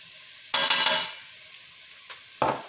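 Curry powder and ginger being toasted in a pan, with two bursts of stirring and scraping sizzle separated by a quieter gap, close and fairly soft, with no voices.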